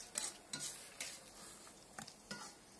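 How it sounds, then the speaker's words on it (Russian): Beef chakhokhbili being stirred in a cauldron over a campfire: a spoon scrapes and clinks against the metal pot in a steady rhythm of roughly five strokes, with a faint sizzle underneath. "Все хорошо перемешиваем."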